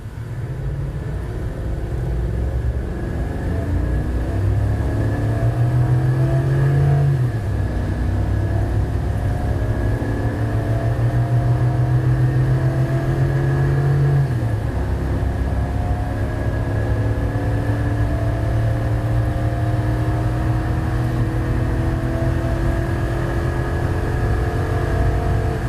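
A 2024 Chevy Silverado 3500 with a 6.6-liter gas V8 and 10-speed Allison transmission, towing on a highway, accelerates hard from 0 to 60. The loud, steady engine roar climbs in pitch, drops back at two gear shifts, and then climbs again.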